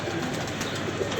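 Pigeons cooing softly at close range, with low, brief coos over a steady background hiss.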